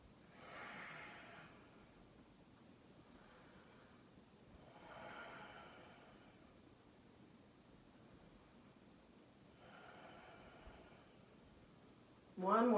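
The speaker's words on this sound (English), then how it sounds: "Continue that beautiful Ujjayi breathing." Slow ujjayi breathing during a power vinyasa yoga class, soft hissing breaths swelling about every four seconds, faint and close, ending with a brief spoken voice.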